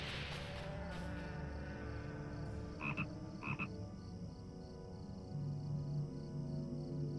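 Dune frogs croak in Lord of the Rings Online, a steady chorus of game creature calls over a layered ambient soundscape, with two brief sharper chirps standing out partway through.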